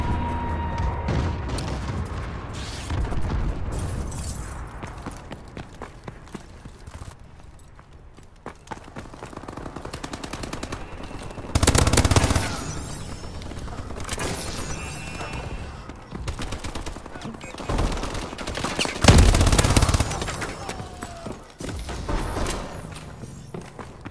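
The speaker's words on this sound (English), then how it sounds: "Friendly bombing run incoming. Friendly missile strikes incoming." Call of Duty online match with a friendly bombing run and missile strikes: repeated booming explosions and bursts of gunfire pile up over continuous battlefield noise, loudest in heavy blasts around the middle and near the end.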